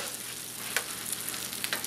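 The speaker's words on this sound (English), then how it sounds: "You can hear it sizzling. That's the moisture from the roast pork dripping out." A roast pork sandwich on buttered Cuban bread sizzles in a hot bread press, a steady close frying hiss with a few sharper crackles and pops as moisture drips out, no voices.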